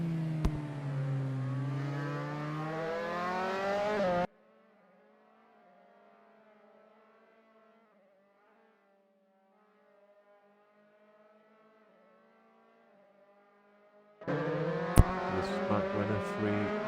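2000-era Formula 3 race cars lapping Snetterton in a racing video game, their engines whining loudly at high revs, then dropping away to a faint distant hum for about ten seconds before roaring back up close.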